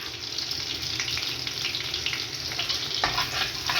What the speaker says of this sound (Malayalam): ഇനി നമുക്കിതിലേക്ക് ഒരു അല്പം ചെറിയ ജീരകം ചേർത്ത് കൊടുക്കാം